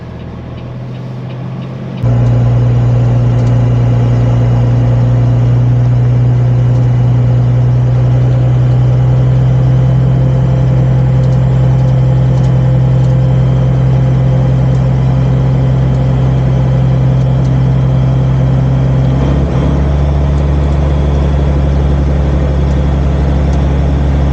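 A truck's engine idles, then rises into a loud, steady low drone as it reverses down a dead-end road, a deep hum holding close and constant with a slight shift in pitch near the end.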